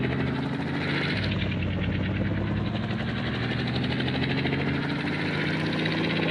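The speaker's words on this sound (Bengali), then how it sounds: "8001 ডায়াল করলে বলে হেলিকপ্টার। ও ভাই, পুলিশ হেলিকপ্টার।" A police helicopter's rotor in the video game Indian Bike Driving 3D chops steadily close by, a loud, constant whirring drone with no talking.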